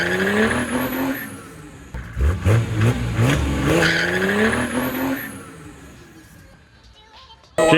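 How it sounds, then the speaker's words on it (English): A tuned Datsun 240Z with an OM606 turbodiesel engine roars close by at full throttle, its pitch climbing and falling as it sweeps past, then fades into a quieter lull. "we just did those flybys in the car"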